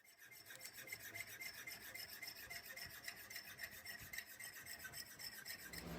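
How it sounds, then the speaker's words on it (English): Steady rhythmic rasping of a chainsaw file stroking back and forth on a steel knife blank, filing a sharpening notch, fast regular strokes, close and fairly quiet, with no voices. "Here I'm using a chainsaw file to file in a sharpening notch"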